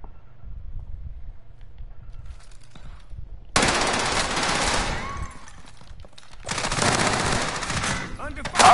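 Video game gunfire: rapid automatic bursts ring out loud and close in two long stretches, separated by quieter ambient noise with low rumbling.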